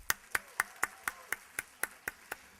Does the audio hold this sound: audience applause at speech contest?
yes